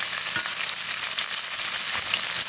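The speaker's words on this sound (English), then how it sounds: "I'm going to put in a 1/2 stick of butter. And we're just going to go ahead and saute this" Half a stick of butter with minced garlic sautéing in a pan, a steady close hiss and crackle of frying with no one talking.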